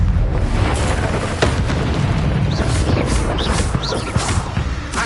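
A Confringo blasting spell explodes in a wizard simulation video game, a dense rumbling boom with crackling bursts that fills the whole stretch, loud and steady with no voices.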